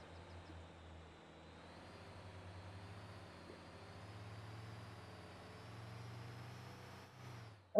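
An off-road truck engine from the driving game MotorTown labours uphill in a steady low drone that swells and eases, ending in a sudden loud burst.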